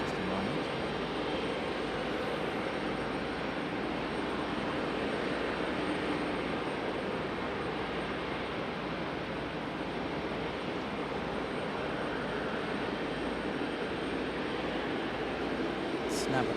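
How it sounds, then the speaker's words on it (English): A Boeing 757 jet idles on the runway at Raleigh-Durham airport before departure, a steady broadband engine roar that holds evenly and fairly distantly throughout. "looks like we have our 757 over here lined up ready for departure"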